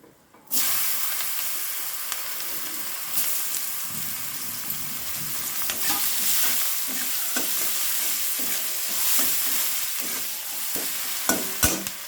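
Chopped onion dropped into hot oil with caramelized sugar bursts into a loud, steady sizzle, close by, with occasional stirring scrapes over the ongoing frying hiss.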